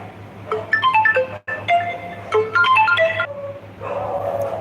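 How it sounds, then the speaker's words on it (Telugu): A mobile phone ringtone plays for incoming calls, a bright repeating electronic melody in two short phrases, close and fairly loud over a low hum, with a brief break between them. "సారీ ఫ్రెండ్స్ కాల్స్ వస్తూ ఉన్నాయి"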